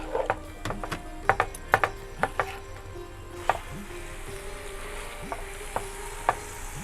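Chopped onions with salt sizzle on a flat grill while a metal utensil scrapes and taps the surface in irregular clicks, a steady frying hiss running beneath.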